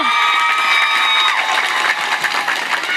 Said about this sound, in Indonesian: Sholat, tepuk tangan dulu